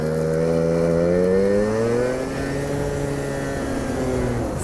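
A scooter engine runs at low RPM while cruising around 30 km/h, giving a steady, close droning hum whose pitch rises slightly and then levels off, with no talk.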